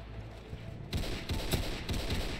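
M1 Garand rifle fire in a first-person shooter game, several loud cracking shots after a quiet start, with a metallic ping among the reports.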